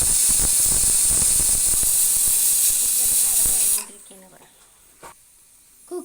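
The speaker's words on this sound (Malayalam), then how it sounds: "കുക്കറിൽ കടലായിക്കൊണ്ടിരിക്കുകയാണ്." A pressure cooker of chickpeas for chana masala lets out a loud, continuous steam hiss for several seconds, then cuts off abruptly, leaving a quiet kitchen with a couple of faint knocks.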